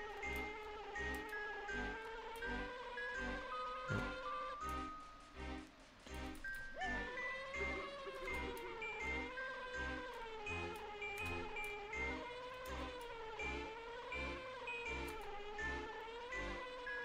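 A bee buzzing in the Banjo-Kazooie video game, a continuous droning hum layered with cheerful game music.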